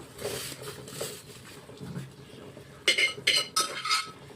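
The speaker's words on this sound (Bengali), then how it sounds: "আলুটা একদম সিদ্ধ হয়ে গেছে, এবার আলুটা আমি দিয়ে দিচ্ছি।" Boiled potatoes go into a cooking pot, heard as a few sharp metallic clinks and scrapes of a spoon against the pot near the end, after a stretch of softer stirring and quiet bubbling.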